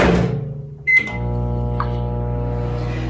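A microwave oven drying flowers gives a short beep, then starts up with a click and settles into a steady, close mechanical hum that continues to the end.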